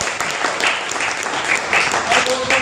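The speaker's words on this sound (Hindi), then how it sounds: "चलिए तालियां हो जाए बात।" Audience applause fills a live talk event, a steady, fairly loud wash of clapping that holds for a few seconds with a slight swell near the end, a voice faintly mixed in.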